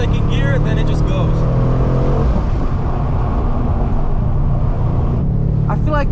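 A 2021 Mercedes-AMG C63S V8 coupe accelerates hard, its engine roaring loudly and steadily from inside the cabin under excited voices from the occupants.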